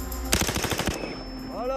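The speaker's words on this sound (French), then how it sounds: "En rafale, elle tire jusqu'à 15 coups par seconde" An HK rifle with its selector on full auto fires a rapid burst of about a dozen loud, close shots in under a second at a Foreign Legion training range, then the ringing dies away.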